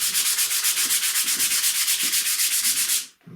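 Wood sanded by hand with 3M Pro Grade Precision sandpaper: steady, rhythmic back-and-forth scratchy rasping strokes, close and loud, stopping abruptly near the end.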